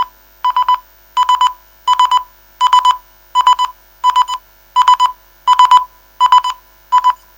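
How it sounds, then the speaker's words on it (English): A misplaced mobile phone rings out after a tracker chip's button is pressed, sounding a steady series of about ten identical electronic tone bursts in regular rhythm, loud and clear with no talking. "That's my phone ringing."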